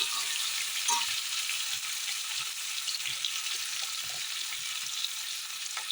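Ginger sizzling and frying in hot oil in a pan for a papaya and potato curry with small fish, a steady loud crackling hiss with no talk.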